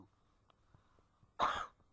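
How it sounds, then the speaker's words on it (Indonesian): A single short, fairly loud cough bursts out once during a quiet Indonesian civics lesson, with near-silence around it. "Maaf, batuk."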